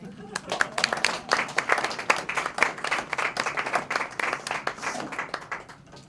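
Clapping in a casual indoor setting, a steady run of close, sharp hand claps lasting several seconds, with voices talking over and between the claps.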